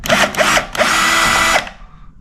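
Power drill driving interior door hinge screws, short bursts of whirring that end in a longer run and then stop, loud and close.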